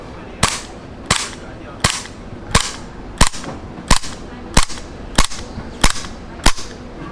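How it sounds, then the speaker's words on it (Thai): An Umarex HK USP BB pistol fires about ten sharp, loud shots at a steady pace, roughly one every 0.7 seconds, with no talking between them. "เดี๋ยวลองยิงฟิลลิ่งกันดูนะครับ"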